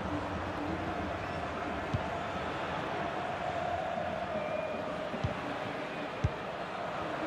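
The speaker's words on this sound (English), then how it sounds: "Just listen to the crowd, Derek, urging their team on." Stadium crowd in a FIFA 21 match between Athletic Club and FC Barcelona, a steady, diffuse roar of supporters filling the background with a few sharp thuds.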